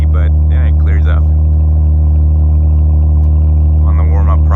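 A 2019 Ford Edge ST idles loud and steady during warm-up with its turbos working, a deep constant exhaust drone with the engine close by; someone talks over it at the start and again near the end.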